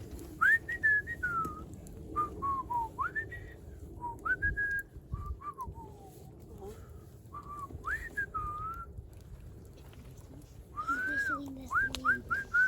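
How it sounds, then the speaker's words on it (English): A person whistles the simple melody of the Three Bears song, the short phrases rising and falling with brief pauses between them, close and fairly quiet. "Oh, you want me to whistle the Three Bears? Okay, we'll whistle the Three Bears."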